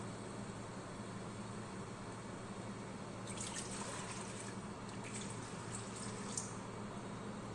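Water poured into a pot of soaked rice for chicken machboos, a steady, faint trickling fill with a few brighter splashy drips toward the end, no talking.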